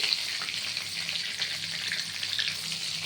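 Paneer pieces fry in a pan of hot oil, giving a steady, close crackling sizzle with fine bright spatters that runs evenly throughout, with no voices.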